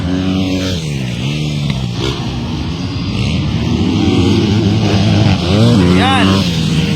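Motocross motorcycles race in the Philippines, their engines revving with rising and falling pitch as they pass close by, under an excited commentator's voice.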